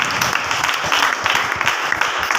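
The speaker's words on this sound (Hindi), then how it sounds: "क्या प्रभु के लिए आप धन्यवाद की ताली दे सकते हो?" A church congregation claps in thanks to the Lord, a dense, steady wash of applause from many hands lasting the whole moment, with no speech over it.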